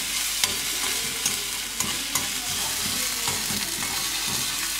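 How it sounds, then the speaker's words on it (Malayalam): Onions sauté in a pan, giving a steady close sizzle broken by repeated scraping stirs, with no speech. "അപ്പം നമ്മൾ ഉള്ളി ഇങ്ങനെ വാടിക്കൊണ്ടിരിക്കുകയാണ്."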